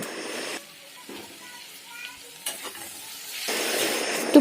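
Onion, capsicum and chopped tomato frying and being stirred in a pan: bursts of close sizzling at the start and end frame a quieter stretch with scattered scraping stir sounds.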